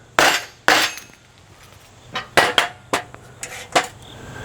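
Metal-on-metal hammer strikes drive a spindle bearing into a Dana 60 axle spindle, about ten sharp ringing blows in uneven bursts, a few close together, loud and near with no talk.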